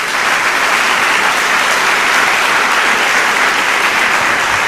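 A church congregation bursts into loud, sustained applause, a thick, even roar of many hands clapping at once, close and constant throughout with no pauses.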